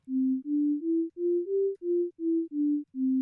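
A pure synthesizer sine tone built in Reaktor steps through nine sustained notes, rising slightly in pitch toward the middle and falling back, each held evenly with brief gaps between, clean and alone.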